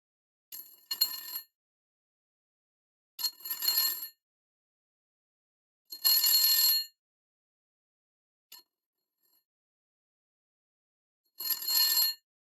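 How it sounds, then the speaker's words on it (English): Phone ringing for a video call in the game Bonds of the Zodiac: four loud, bright trilling rings sound alone, evenly spaced with silent gaps, plus one short faint blip between them. "Let's go ahead and give them a little phone call."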